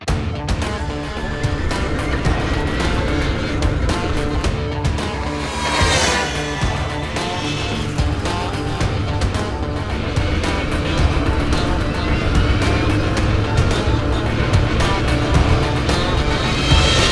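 A Brammo Empulse R electric motorcycle ridden on a test track gives a steady whine that rises and falls, mixed with a continuous loud rush of wind, with no voices heard.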